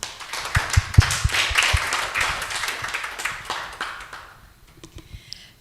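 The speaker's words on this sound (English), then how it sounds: "Please give our outstanding keynote speaker a big applause." Conference audience applauding a keynote speaker on the first day of an international education conference, a steady patter of clapping hands that thins and fades toward the end.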